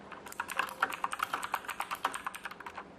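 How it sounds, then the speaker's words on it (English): Rapid typing on an IXCC X7000 mechanical keyboard, a quick run of sharp, clacky keystrokes in an uneven rhythm, close and clear with no talking. "So if I were to type something like,"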